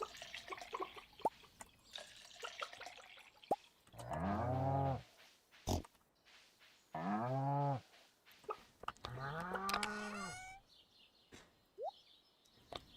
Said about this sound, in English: the sound of milking a cow that to me just sounds like you're draining the cow